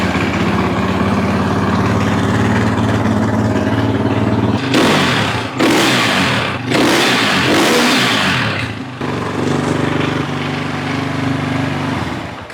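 A KTM 520 EXC dirt bike engine runs at a steady, loud idle, then snaps through several sharp throttle blips before falling back to its low rumbling idle.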